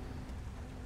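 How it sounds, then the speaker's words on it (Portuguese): Heavy rain pours during a storm over Los Santos in GTA 5, heard from a BMW on the road: a dense, steady, close wash of rainfall that stays loud and even throughout, with no voices. "Tem que tomar cuidado, tá chovendo demais."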